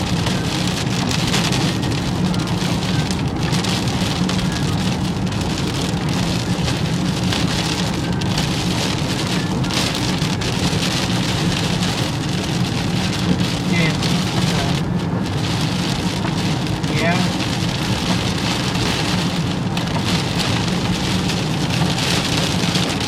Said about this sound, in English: And boom, we got a rain wall.